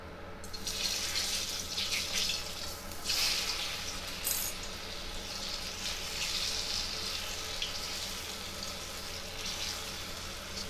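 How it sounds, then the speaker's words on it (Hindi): Besan gatte dropped into hot oil, a steady bright hiss and crackle of frying that swells in bursts, close and fairly loud with a faint low hum beneath. "देखिए फ्रेंड, तेल गरम हो चुका है। अब मैं इसमें गट्टे डालूंगी।"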